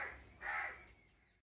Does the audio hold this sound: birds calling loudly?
yes